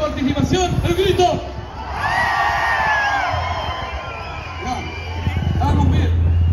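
A large crowd at a September 18 national holiday celebration in Parque O'Higgins, Chile, shouts and cheers together in a loud, sustained roar, with whoops and a voice over a loudspeaker.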